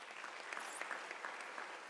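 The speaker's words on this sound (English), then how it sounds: "I think we need a round of applause." Graduation audience at a University of South Africa ceremony giving brief, faint applause, an even patter of many distant clapping hands.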